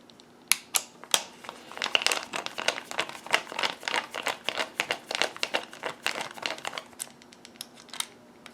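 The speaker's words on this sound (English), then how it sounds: "You have to take this label off." Sticker label peeled off an Xbox 360 controller, heard as a close, continuous run of crackling and crinkling tears with quick irregular bursts, steady and fairly loud, alone without speech.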